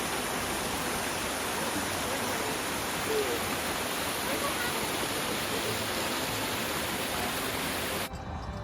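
Continuous broadband rushing of a creek flowing beside an Appalachian Trail path in the Smokies, steady and fairly loud, cutting off abruptly near the end.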